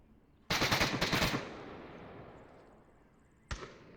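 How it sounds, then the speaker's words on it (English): A burst of rapid automatic gunfire as suppressive fire in the VR shooter Onward, about a second of close, loud rattling shots that then ring out. One more sharp shot cracks near the end. "he's working in on the suppressive fire, which is also giving an audio cue"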